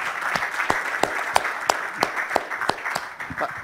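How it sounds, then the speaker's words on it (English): An audience at a university energy symposium applauds after a talk, dense steady clapping from many hands with a few sharper individual claps standing out, sustained through the whole stretch. "Let's give him a round of applause for a nice talk."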